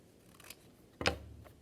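Scissors make one crisp, close snip through the edge of a paper mini-house mock-up, preceded by a faint rustle of paper in a quiet room.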